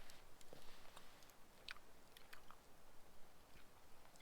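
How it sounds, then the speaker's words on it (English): Someone eats steak and fries outdoors at a forest campsite with an open mouth, and the soft, close, wet chewing comes with occasional crunchy bites and faint smacks. "Sorry, chewing with my mouth open."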